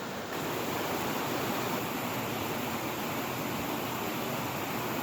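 River water rushes in a steady, broadband roar, loud and close, with no pauses or voices over the constant flow.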